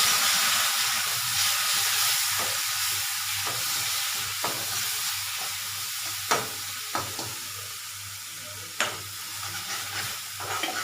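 Masala sizzling and frying in a pan after a splash of water is added, a steady bright hiss throughout with a few sharp clinks of stirring near the end.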